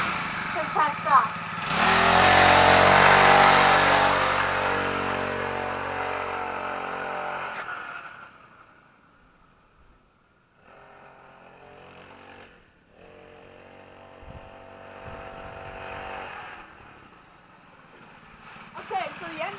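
A KTX mini dirt bike engine that is not fully warmed up runs nearby with a rough, buzzing idle that is loud at first, then fades lower and sputters unevenly, with no voices.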